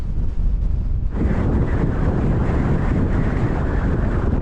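Strong wind, about 23 to 24 mph from the southwest, roars and buffets against the microphone on a hilltop in the Scottish Borders, a loud continuous rushing that thickens after the first second.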